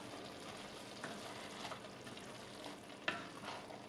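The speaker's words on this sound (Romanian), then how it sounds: "îi luăm capacul și o mai lăsăm la fier pentru 10 minute, pentru ca sucul să scadă" Braised cabbage simmers uncovered in a pot to cook down its juices, giving a faint, steady bubbling hiss with a few soft clicks and pops.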